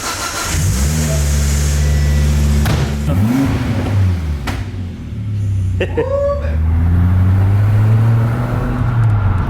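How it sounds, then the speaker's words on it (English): An ex-police Volvo T5 car being driven, its engine loud and close, revving up and settling repeatedly with rising and falling tones as it accelerates through gears, a brief quieter moment midway. "we'll take it for a drive around the block and see what happens"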